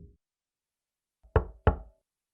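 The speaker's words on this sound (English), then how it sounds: "The door finds itself knocked." Two sharp, solid knocks on a wooden barn door in a spooky video game, spaced about a third of a second apart, loud and close, with a faint thump just before and silence otherwise.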